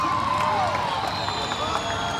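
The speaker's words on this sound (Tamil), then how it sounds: "எவ்வளவு ஒரு ஆரவாரம் பாருங்க சார்." A live crowd at a comedy star-night event in Nagercoil roars and cheers, a loud, continuous wash of voices and whistles from the audience, with some speech mixed in.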